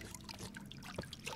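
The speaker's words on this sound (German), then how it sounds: "Da, ein paar Tropfen Wasser." Faint, brief trickle of dripping water in a dry desert cave setting in Uncharted 3, soft and close, over low ambient noise.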